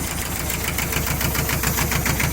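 An old Japanese ISEKI TS2400 two-cylinder 24 hp tractor engine runs at a steady idle, a loud, close, rhythmic chugging knock with even pulses throughout.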